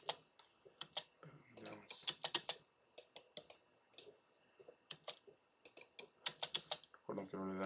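Computer keyboard keys clatter in quick sharp clicks, including presses of the enter key, close and fairly quiet, with a voice speaking briefly near the end.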